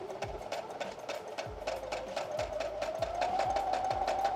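A sewing machine backstitching at the start of a seam on a handmade gift, running in a steady rapid stitching rhythm with a rising whine, close and fairly quiet, with no voices.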